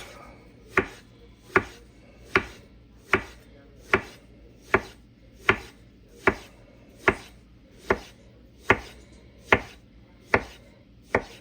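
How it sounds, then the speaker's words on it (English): A knife cuts a melon into thin slices on a board, each stroke a crisp, close thunk, about a dozen of them in an even, unhurried rhythm with near silence between. "you just do nice thin slices"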